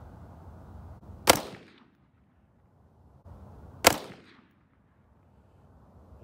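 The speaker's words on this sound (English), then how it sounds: "Shooting 55 grain PMC, 3 rounds, let's go." Two sharp rifle shots of 55-grain PMC ammunition fired at an outdoor range, each a loud crack with a short decaying echo, spaced about two and a half seconds apart over a low background hum.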